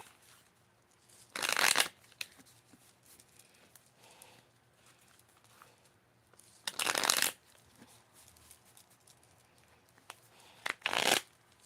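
Tarot cards being shuffled loudly in three separate bursts, each lasting about half a second, with quiet room tone in between.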